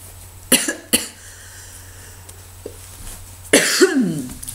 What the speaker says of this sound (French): je tousse et j'ai même pas une bouteille d'eau